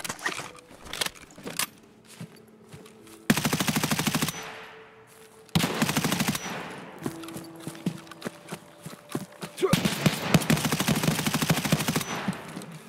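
Rapid automatic gunfire bursts in the shooter game Escape From Tarkov, loud and close, alternating with brief quieter gaps and clicking handling noises, with no talk.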